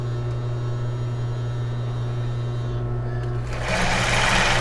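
A sewing machine runs steadily, stitching the seam of a bra with elastic lace detail, a constant motor whine and hum that shifts to a busier, brighter rattle near the end.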